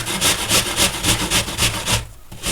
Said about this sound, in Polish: Jabłka obieram ze skórki i ścieram na tarce o grubych oczkach.